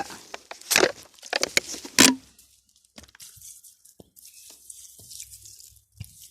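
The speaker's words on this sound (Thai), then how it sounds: "ให้มันชื้นนี่นะครับ ลาดไปด้วยน้ำหัวน้ำเชื้อ" Liquid mushroom spawn is poured over moist wood-scrap growing material, giving a few sharp splashes and drips early, then sparse softer trickles and drops against near silence.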